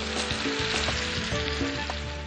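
Jackfruit pickle mixed with lemon juice in a hot pan sizzles and fries steadily with stirring scrapes, close and loud, with no talking.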